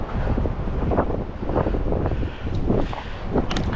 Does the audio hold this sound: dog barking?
no